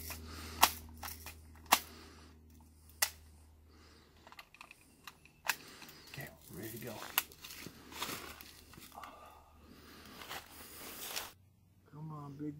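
A powerful air rifle is primed and fired in a backyard, giving sharp, dry cracks and clicks near the start, followed by softer mechanical handling noises with speech in between.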